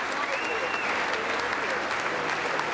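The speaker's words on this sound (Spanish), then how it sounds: "Ovación de pie para Volodymyr Zelensky en el Congreso de Estados Unidos." A standing ovation fills the US Congress for the Ukrainian president. Dense, sustained applause from a large crowd holds at an even, loud level throughout.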